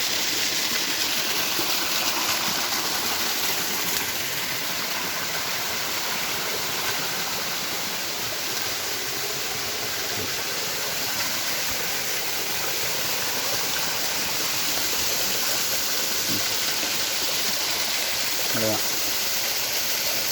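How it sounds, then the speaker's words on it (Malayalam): Continuous rushing of a flowing stream at Cherinjakalpara, steady and fairly close, with a few faint incidental sounds over it. "ഇവിടെ നിന്ന് ആ തോട് വരുന്നു ഈ തോട് വരുന്ന ഭാഗങ്ങളാണ്"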